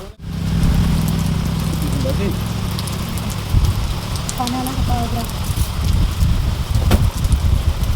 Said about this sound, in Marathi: पाऊस आहे 12 वाजेपासून पडतो मस्त